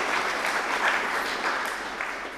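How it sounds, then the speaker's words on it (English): Audience at a RustFest Rome 2018 conference talk applauds, a steady dense wash of clapping that holds at an even level through the whole stretch, with no voices on top. "So give ourselves a round of applause."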